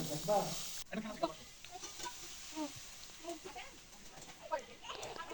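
Potatoes and green peas frying with ground spice paste in a pan, a steady soft sizzle with stirring scrapes, under someone talking throughout.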